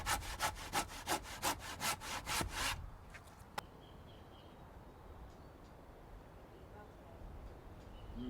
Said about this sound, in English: I'm notching out this post